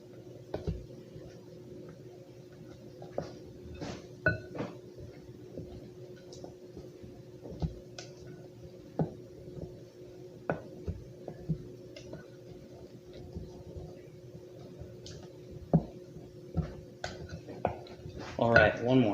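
A utensil stirs whole oats pancake batter in a bowl, giving scattered, irregular clinks and taps against the bowl over a quiet, steady background hum.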